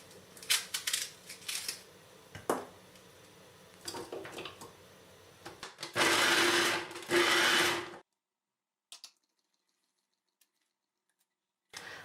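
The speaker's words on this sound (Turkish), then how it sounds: "Aynı şekilde maydanozumu da rondodan çekiyorum." A food processor chopping parsley whirs in a few short loud bursts with clattering in between, then stops and leaves near silence.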